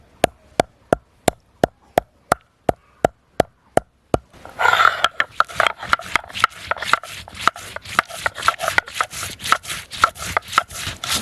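Whole cinnamon, cardamom pods and cumin are ground together on a grinding stone for fish curry, starting with a steady run of sharp rhythmic knocks and then turning into a rapid scraping, rubbing back-and-forth grind, close and clear with no talk.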